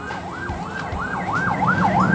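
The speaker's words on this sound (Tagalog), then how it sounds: "Working na naman ang ambulansya." An ambulance siren wails on a street outside, its rising and falling tone sweeping in a steady repeating cycle over passing road noise, loud and growing slightly stronger toward the end.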